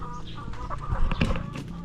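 Rhode Island Red hens clucking in a laying coop, several close birds overlapping in short irregular clucks over a steady background murmur, with no voices.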